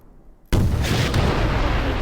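Power generator blowing up in the Lambda Wars video game, a sudden loud explosive boom that breaks in after a brief quiet moment and then rolls on as a heavy rumbling blast.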